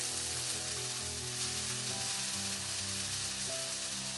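Bell pepper and onion juliennes frying with paneer in a pan, a steady bright sizzle with light stirring, close and continuous with no talking.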